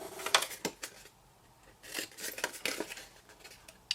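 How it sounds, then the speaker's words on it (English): Scissors snip through patterned craft paper for a window box, giving a few crisp, close cuts in short irregular bursts with quiet pauses between. "cut up those lines, so grab my scissors."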